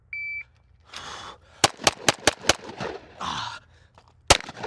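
A custom Glock 45 pistol fires a quick string of five sharp, loud shots, then one more shot after a pause, while the slide is tested for cycling. A brief beep comes first and low voices are heard between shots.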